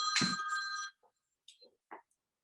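A mobile phone rings with a bright, tonal ringtone burst that cuts off after about a second, followed by a few faint clicks and small sounds.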